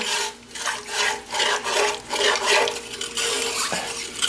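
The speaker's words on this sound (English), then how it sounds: "I'm going to try and scrape off the brown bits from the bottom of the Dutch oven" A utensil scrapes browned bits off the bottom of a Dutch oven in rhythmic strokes, a gritty rasping that repeats roughly every half second, close and loud with no talking.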